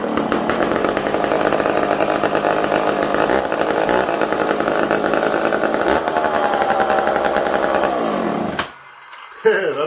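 Promac 55 chainsaws being started and revved outdoors in cold weather, a loud continuous two-stroke engine drone with rising and falling revs, cutting out near the end before a brief restart burst.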